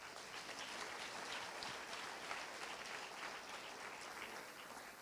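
Applause at a Portuguese-language religious gathering honoring Jesus, steady dense clapping filling the room at a faint, distant level for the whole stretch with no voices over it.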